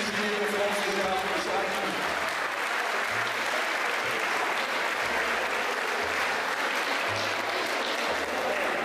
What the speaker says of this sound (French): Un grand applaudissement pour notre maître cuisinier de France, Gérald.